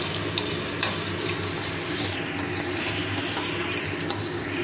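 Homemade biryani masala spices dry-roasting in a pan, giving a steady, close rustling sizzle with faint scraping from stirring throughout.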